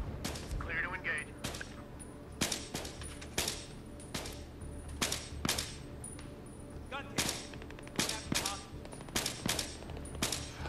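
Gunfire in a Battlefield 3 co-op mission, with a steady string of sharp rifle shots and short bursts cracking over a rumbling battlefield backdrop, fairly close, while players talk over the action.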